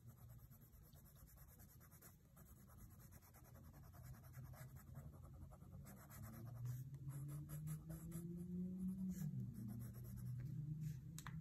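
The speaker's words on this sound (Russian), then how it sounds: "А теперь коричневым карандашом добавлю цвет по этой ветке." A colored pencil scratches softly across paper in continuous strokes while a voice talks over it throughout.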